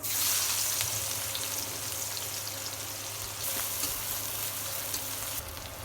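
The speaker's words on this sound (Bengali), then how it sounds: "ভাজা তেলের ভিতরে আর একটু তেল দিয়ে দেবো আমি পেঁয়াজ" Onions frying in hot oil left over from frying rohu fish in a home kitchen give a steady, close sizzle with faint crackles and occasional stirring, with no voices.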